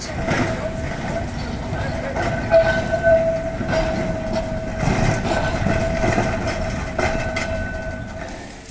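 A Blackpool heritage tram rumbles along with a steady electric hum and rail noise, a couple of clanks and bumps, and faint voices in the background.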